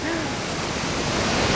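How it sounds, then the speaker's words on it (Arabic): Dangar Falls, a very wide, large waterfall on Never Never Creek, roars as a steady broadband rush with a pool in front. The sound is close and continuous, with a voice briefly audible over it. "واو عن جد شلال كتير كبير كتير عريض"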